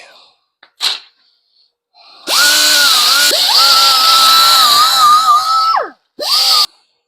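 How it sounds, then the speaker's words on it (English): A die grinder cleans up metal on a cart: a loud, close, steady high whine that wavers in pitch for about three and a half seconds, winding down before a short second burst. "I'm just going to take the die grinder and just clean up this metal just a little bit."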